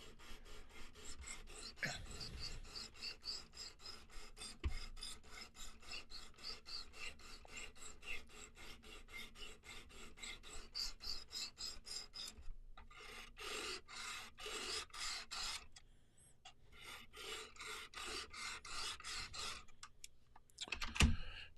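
A knife blade being sharpened to walk the burr, with close, rapid rhythmic rasping strokes that repeat steadily, thin out and break into short bursts toward the end.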